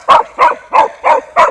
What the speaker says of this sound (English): Dog hates RC.